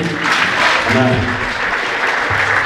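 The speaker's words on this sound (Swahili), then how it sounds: "Mnaweza kuwapigia makofi meza kuu." Loud, dense applause from an audience honouring the head table at a seminary certificate and graduation ceremony in Moshi, with a voice briefly audible beneath the steady clapping.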